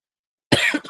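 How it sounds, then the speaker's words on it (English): A single sharp human cough after silence, loud and close, with a short rough follow-up burst and no talk. "I'm going to go have a cough break real quick."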